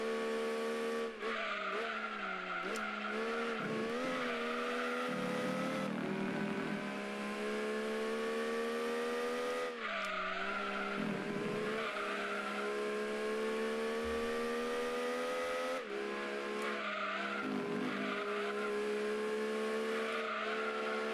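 A Mazda MX-5 Miata racing in Gran Turismo 2, its engine droning loud and steady with rising and falling revs through gear changes, tires squealing in spots, playing alone without talk.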